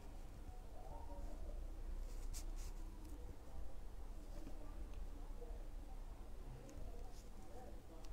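A pencil traces an outline on paper for a handmade kite-shaped greeting card, giving a steady, close scratching of repeated strokes under faint background noise.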